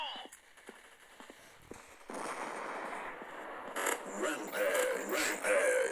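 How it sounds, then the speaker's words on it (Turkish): A grenade is thrown in a video game and bursts, with sharp clicks and handling noises followed by loud crackling blasts that build toward the end. "Şöyle şuraya bir tane bomba atalım."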